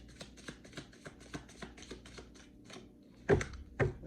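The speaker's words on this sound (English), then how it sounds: "I'm going to do one more shuffle" A tarot card deck being shuffled, soft rapid riffling taps in an even run of about a dozen quick flicks, then two louder slaps as cards settle, close and quiet with no talking.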